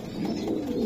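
Racer pigeons of uncommon colouring, one with a bluish back and one black, give a soft, low, steady coo, heard alone and fairly close.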